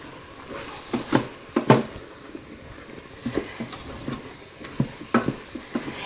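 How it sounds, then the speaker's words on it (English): Garlic sizzles softly in an Instant Pot while a spoon stirs it, irregular scraping taps and light crackle recurring over a low frying hiss. "You just want to stir it until you start to smell the fragrance of it."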